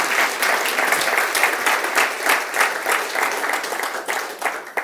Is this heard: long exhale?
no